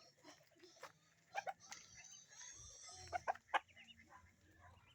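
Texas breed free-range hens cluck in short, scattered calls outdoors, fairly faint against low background noise, with a few sharper squawks near the end.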